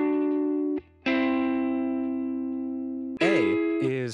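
A guitar note runs through the Universal Audio UAFX Starlight Echo Station tape echo pedal in its Tape EP-III mode, sustaining long and bright, then cut off before a wavering, pitch-bending echoed burst returns near the end.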